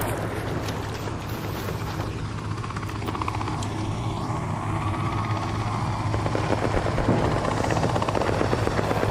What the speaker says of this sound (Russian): Шершень на нас летит.